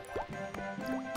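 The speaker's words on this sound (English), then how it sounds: "On the tables and leads, the rain is dripping." Rain drips through a leaking ceiling indoors in a cartoon, several quiet, bright plinks and drops landing at irregular intervals over a faint background tone.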